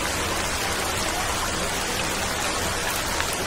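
Rain falls steadily in a dense, even hiss that stays loud and constant throughout, with no voices and no breaks, as in a Malayalam film scene.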